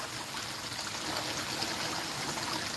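Water pours and trickles steadily over wet gold paydirt material in a pan or tub, a close, continuous splashing stream with no voices.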